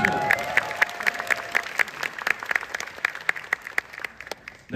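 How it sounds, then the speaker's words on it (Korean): Applause from a seated audience at a company conference lecture, with sharp individual claps standing out over a steady crowd patter that gradually thins out. "박수 한번 주십시오"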